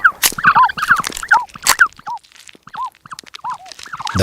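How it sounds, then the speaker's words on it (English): Ostrich chicks cheep from inside their eggs in a desert nest, a series of clear, high chirps repeated in an irregular rhythm, close and fairly loud, with no talking. "A gentle cheeping from within the eggs"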